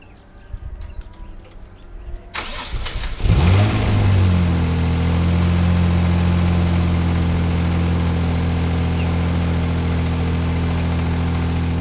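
A car engine cold-starts right after its throttle body was coated with Tomei Throttle Coat: a short cranking burst, then the engine catches and settles into a loud, steady, high idle that drones on alone.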